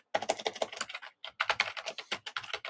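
Rapid, close-up typing on a computer keyboard, keys clattering in irregular bursts with a short pause near the middle, no voices.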